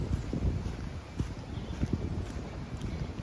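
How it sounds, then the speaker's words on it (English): Wind gusts along a canal towpath on a blustery day, a continuous low rumbling buffet with irregular thumps, heard close and fairly loud with no talking. "It's quite windy today as well."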